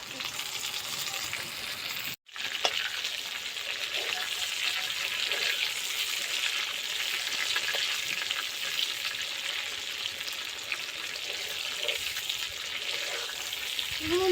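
Pieces of pointed gourd (potol) frying in hot oil give a steady, close sizzle that runs almost unbroken, cut by one brief silent gap near the start.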